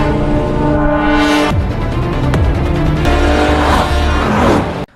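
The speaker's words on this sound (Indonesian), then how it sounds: "Kang Kyung langsung tancap gas dengan mobilnya." A car's engine revs hard and roars away in a tense getaway, loud and sustained for several seconds with a rising whine and brief squeals before cutting off abruptly.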